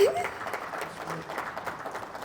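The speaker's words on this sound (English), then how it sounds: "Round of applause for that, please" A convention audience at a real estate investing talk gives brief, fairly quiet applause, a short scattered patter fading under a murmur of voices.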